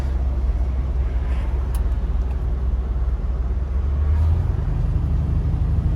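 Steady low road and engine rumble from a restomodded 1975 Chevrolet Suburban cruising at about 50 mph, a continuous near drone with no talk.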